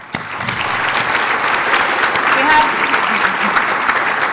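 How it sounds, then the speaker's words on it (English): Sustained applause from a large crowd at a higher education conference plenary, steady and loud throughout, with no breaks. "join me in giving everyone who's been involved a huge round of applause"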